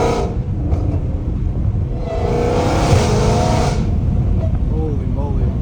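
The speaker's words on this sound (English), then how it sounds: "It kind of reminds me of like a Corsa exhaust." A Hellcat Redeye engine with a titanium valved, catless exhaust revs hard with a loud, rumbling exhaust roar that swells and holds steady, with voices faintly under the noise.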